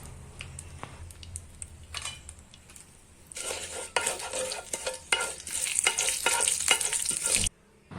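Curry leaves, asafoetida and turmeric hit hot oil with a sustained, crackling sizzle, joined by stirring and the scrape of a spoon against the pan, growing louder midway and ending abruptly.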